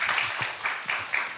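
Applause at a digital infrastructure conference, a brief, dense burst of many hands clapping at moderate loudness with faint low voices murmuring beneath.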